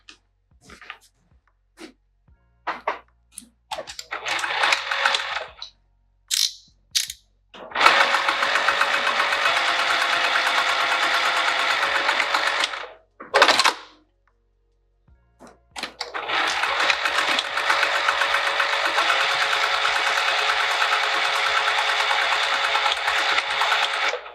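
A sewing machine runs in two long steady bursts, basting stitches through all layers along the sides and bottom of a Barbados bag, with short clicks and pauses between runs, close and loud.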